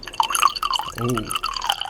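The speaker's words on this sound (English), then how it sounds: "there's some ASMR pouring for you" Liquid pouring in the Zork Nemesis video game, a short gurgling glug of fluid filling a glass, rising in pitch for about half a second amid clicks and drip-like sounds, with a voice talking around it.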